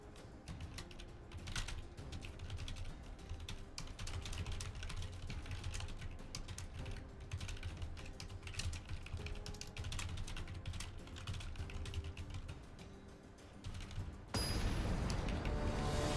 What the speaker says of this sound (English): I was actually just typing a message to SCTR